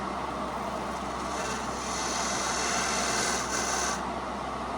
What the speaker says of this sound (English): For that, I've got my 1/2-inch pointy gouge